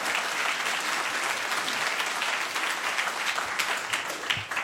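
Enthusiastic applause from the audience at a city council meeting, dense and sustained throughout at an even, fairly loud level.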